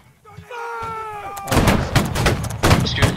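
Heavy cannon fire booms in a Napoleonic-style video game battle, a dense run of explosive blasts starting after a sustained horn-like tone, loud and rolling to the end.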